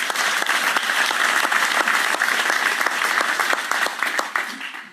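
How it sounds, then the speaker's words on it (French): An audience applauds steadily during a citizens' cooperative's presentation of its election candidate list in Cherbourg, dense clapping filling the room at full strength for about four seconds before easing off at the end. "Sous les applaudissements."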